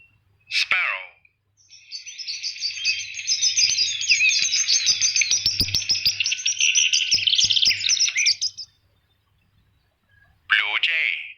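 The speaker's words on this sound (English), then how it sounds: "sparrow" A sparrow chirping in a rapid, busy run of high tweets lasting several seconds, clear and close, with a short spoken voice just before and after.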